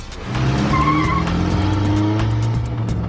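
A car accelerates hard and speeds away with loud, drawn-out tyre squeals during a police unit's fast exit from a hostile area, close and strong throughout, with no talk.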